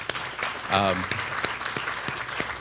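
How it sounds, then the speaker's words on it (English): Applause from a bar association audience welcoming the Florida Bar president, scattered claps heard briefly with a voice speaking over them. "let's give him a round of applause"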